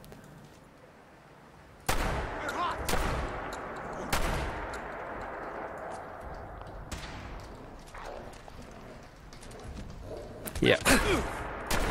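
Loud shotgun blasts from Fallout 4, a sharp report near 2 s, more shots around 3, 4 and 7 s and a burst near 10.5 s, over steady game ambience with someone speaking briefly.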